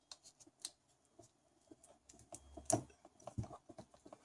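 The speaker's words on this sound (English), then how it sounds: "you can just take another electrical tape and just cover everything for extra" Soft, intermittent crinkling and tearing of electrical tape being wrapped around wires for a homemade SIO2PC USB cable, a string of faint, close ticks and rustles with one louder snap near the end, no talking.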